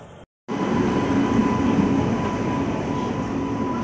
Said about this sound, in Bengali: ট্রেন ঢুকে গেল আমাদের